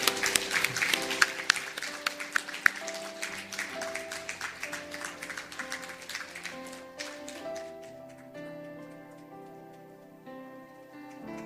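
A church congregation claps during a Sunday service welcome, brisk scattered applause over sustained organ or keyboard chords, the clapping tapering off as the music carries on alone.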